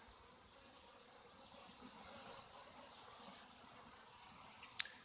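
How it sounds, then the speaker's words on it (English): A steady, low insect buzz fills the air, many bees humming together close around a hive in mild mid-60s weather, with a faint breeze-like hiss and one brief click near the end. "Bees are just loving it."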